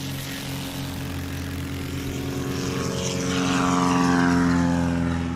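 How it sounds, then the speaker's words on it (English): A propeller-driven STOL competition airplane takes off at a STOL practice event, its engine droning loudly and steadily with strong harmonic tones, swelling slightly louder near the end. "Cleaner takeoff than last time in terms of that settling."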